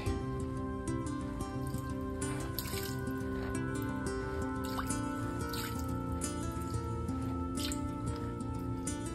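Water sloshes and trickles in a gold pan as gravel is washed back and forth while sniping for gold. The wet swishing and dripping is close and continuous, with no talk.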